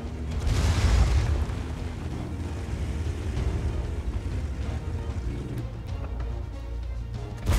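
A tank gun in a World of Tanks–style battle fires one heavy, booming shot, and a rumbling roar lingers after it. Engine and battlefield noise carry on steadily underneath.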